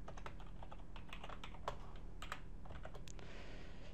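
Steady typing on a computer keyboard while entering Java code, a close run of quick, uneven key clicks with no voices.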